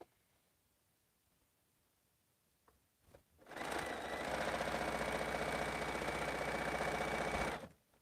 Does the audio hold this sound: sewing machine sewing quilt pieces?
yes